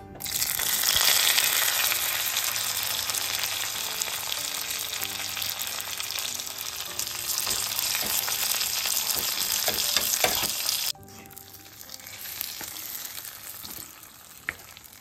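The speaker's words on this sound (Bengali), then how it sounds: "এবার একটা তড়কা প্যানে অল্প একটু ঘি গরম করে কাজু কিশমিশ হালকা একটু ভেজে নিয়ে এর মধ্যে অ্যাড করে দেবো" Cashews and raisins fry in hot ghee in a small tadka pan, giving a loud, steady sizzle with stirring scrapes that runs for about eleven seconds before dropping to a quieter crackle.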